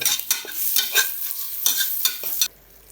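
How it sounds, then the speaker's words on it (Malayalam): Onions sautéing in a pan while being stirred: a crackling sizzle broken by repeated scraping strokes of a spoon, close and fairly loud, ending abruptly. "പിന്നെ സവാള ദാ ഇവിടെ ഇട്ടിട്ട് വാട്ടാനിട്ടുണ്ട്."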